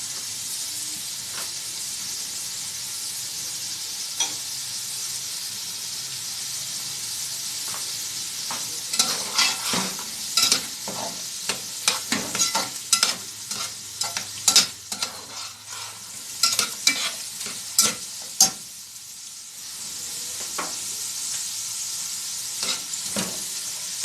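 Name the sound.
carrots frying and being stirred in a pan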